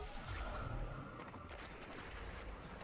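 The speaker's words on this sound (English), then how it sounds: "Oh my god, it is a Nova Bomb." A Nova Bomb ability explodes in the video game Destiny 2 with a dense, rumbling burst. Crackling game effects and low booms fill the whole short stretch at moderate volume.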